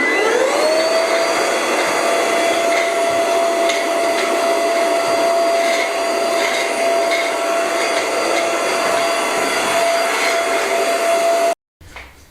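A machine mixes a batch of lime mortar during a stone farmhouse restoration, giving a steady whining motor hum with a constant high tone that runs unbroken for about eleven seconds before cutting off abruptly.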